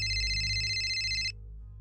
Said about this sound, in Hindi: लेकिन तभी जेराल्ड का फोन बज उठा।